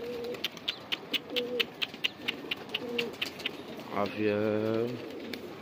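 Pigeons coo in a repeated soft rhythm close by, mixed with bird calls and clicks, while someone talks over them.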